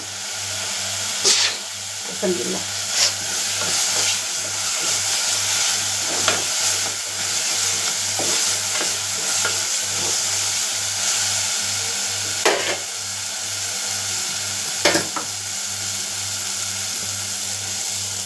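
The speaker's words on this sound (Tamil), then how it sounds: "பச்சை வாடை போகிற வரைக்கும் ஒரு நிமிஷத்துக்கு நல்லா அதை வதக்கி விடுவோம்." Ingredients sautéed and stirred in a pan: a soft continuous frying hiss over a steady low hum, with spatula scrapes and a few sharper clinks spread through, close and moderately loud without talking.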